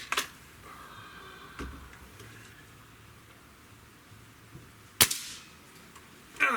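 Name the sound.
Remington Thunderceptor rifle gunshot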